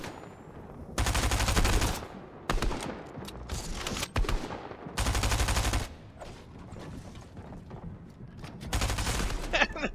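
Rapid bursts of automatic gunfire trade back and forth in a Fortnite match, loud clustered volleys separated by brief lulls and scattered single shots over about ten seconds.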